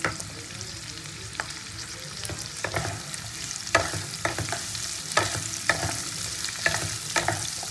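Chilli chicken with onions frying in a pan, with a continuous close sizzle broken by repeated scraping and clattering strokes of a stirring spoon.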